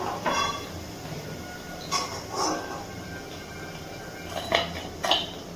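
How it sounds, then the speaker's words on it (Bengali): Fried drumstick flower fritters are lifted out of hot oil, with several sharp metallic clinks and scrapes of a utensil against the pan over a quiet background. "এবার তেল থেকে তুলে নিচ্ছি।"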